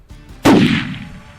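A single loud, sharp hunting rifle shot fired at long range on a red hartebeest, booming close by and rolling off into a long, fading echo.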